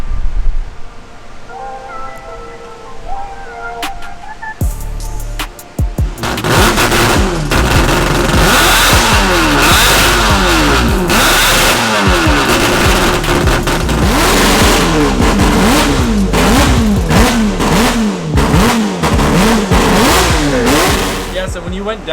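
A four-rotor engine in a Toyota Supra on rollers, quiet at first, then bursting into loud, sustained revving with rapid rising and falling sweeps and a harsh buzzing rasp, close by, with voices under it.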